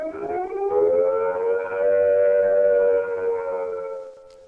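A UK nuclear attack warning siren sounds a long, loud wailing tone that rises and holds steady, then starts to fall away at the end, heard alone with no talk.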